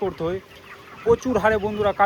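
Chickens cluck in short bursts at close range, with a few sharper, higher calls breaking through.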